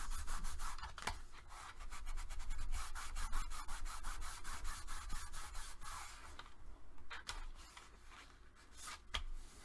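Bone folder burnishing a glued paper piece onto a scored panel of a handmade baby mini album, a steady run of close, dry rubbing strokes with quick scratchy repeats, alone without talk.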